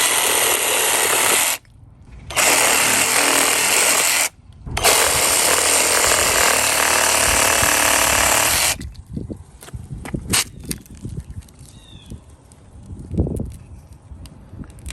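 A GardenJoy cordless reciprocating saw on a 63 watt-hour battery cuts through a piece about half an inch thick in loud sustained bursts, broken by two short pauses, then stops, leaving scattered clicks and handling knocks.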